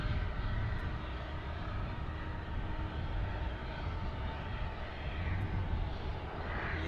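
Iberia airliner at DFW airport heard as a steady, broad jet engine roar that holds evenly throughout, moderately distant with no talk over it.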